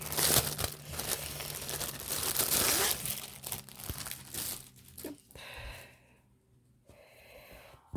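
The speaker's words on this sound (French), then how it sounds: "Je vais ouvrir la toile étant emballée." Plastic packaging around a cross-stitch canvas crinkles and crackles close by as it is unwrapped, loud and busy at first, then fading to sparse rustles and near quiet.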